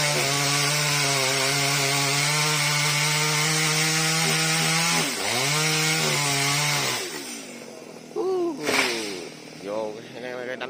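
A chainsaw drones loudly at high revs, bogging down as it bites into a large mango tree branch, then drops off while a person speaks over its idling sputter.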